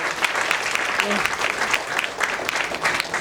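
Loud, steady applause from an audience at an astrology society's cultural programme, continuous dense clapping that fills the whole stretch without a break.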